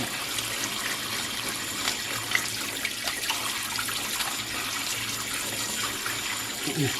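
Abalone is washed under a running kitchen tap; water streams and splashes into the sink steadily throughout, with faint handling sounds mixed in and no clear talking.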